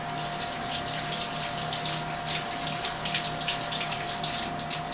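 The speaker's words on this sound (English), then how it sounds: "So let me run the water for a little bit." Tap water runs steadily into a sink to rinse a metallographic polishing plate, a continuous even splashing hiss with a faint steady hum beneath, no talking.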